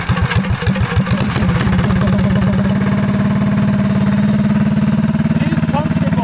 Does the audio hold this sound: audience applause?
no